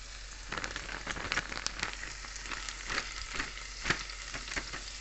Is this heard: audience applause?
no